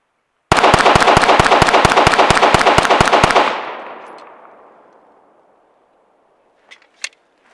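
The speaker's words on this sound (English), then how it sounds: "And now I'm just gonna shoot these rounds as fast as possible." A custom Glock 19 pistol fires about fifteen rapid, evenly spaced shots, loud and close, followed by a long decaying echo and two faint clicks.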